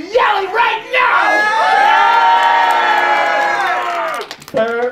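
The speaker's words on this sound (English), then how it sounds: "And now let me hear you yelling right now!" An audience at a comics contest yells and cheers in one loud, sustained, shrill roar for several seconds. Shouts come just before it, and it fades out near the end.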